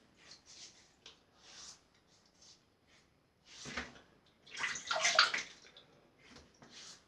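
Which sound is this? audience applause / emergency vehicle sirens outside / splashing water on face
splashing water on face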